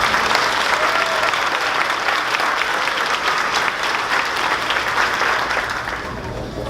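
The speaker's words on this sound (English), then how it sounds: "One more round of applause." At a fifth-grade promotion ceremony, a crowd applauds steadily and loudly, a dense patter of many hands clapping that tapers slightly toward the end.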